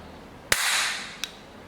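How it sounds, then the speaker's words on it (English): A 6mm Colt 1908 Vest Pocket spring pistol fires a single sharp, subdued crack up close, followed by a brief hiss and a second faint click. "it fires with a fairly subdued crack. Louder than I expected for a spring pistol."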